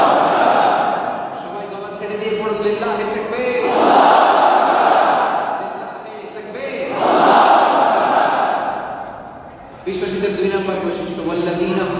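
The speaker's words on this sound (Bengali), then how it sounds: "তাকবীর পড়েন, লিল্লাহি তাকবীর। সবাই গলা ছেড়ে দিয়ে" A large crowd at an Islamic mahfil in Africa loudly chants takbir in swelling waves that rise and fall every few seconds, with a leader's voice calling between the responses.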